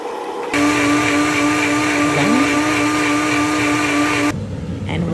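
A blender purees roasted butternut squash soup with sauteed onion and bouillon, starting abruptly into a loud steady whirring drone with a brief pitch dip as it catches the load, then cutting off.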